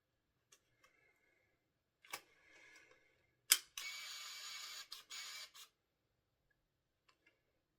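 Kodak Gold film is loaded into a Canon EOS 650 camera: quiet clicks, a snap of the back closing, then a loud motorized whir as the film advances, with sparse faint clicks afterward.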